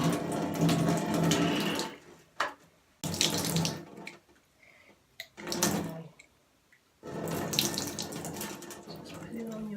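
Cloudy water from soaking rice poured out of a container in several separate bursts, splashing and gurgling loudly in a sink with short quiet gaps between pours.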